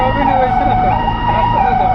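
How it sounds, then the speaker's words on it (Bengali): An ICU ambulance from Mount Adora Hospital arrives at an injured-passenger triage scene, its siren a loud, continuous wailing tone held close throughout, with a voice speaking faintly beneath it. "মাউন্ট অ্যাডোরা হসপিটাল থেকে একটি আইসিইউ অ্যাম্বুলেন্স চলে এসছে আমাদেরকে সাপোর্ট করার জন্য"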